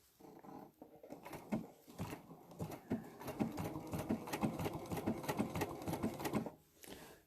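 A domestic sewing machine stitches a small fabric applique, its needle hammering in a fast steady rhythm for several seconds with a few brief stops and restarts, close and clear.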